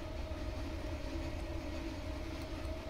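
An EMD GP9 diesel locomotive slows under braking in Train Simulator 2019, giving a steady heavy rumble with a constant whining tone and rail noise, loud and unbroken throughout.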